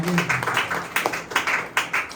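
Rhythmic hand clapping from a group at a church memorial prayer gathering, sharp repeated claps in a steady beat over about two seconds, with voices faintly mixed in.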